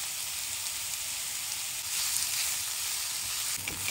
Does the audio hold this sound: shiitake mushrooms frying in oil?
yes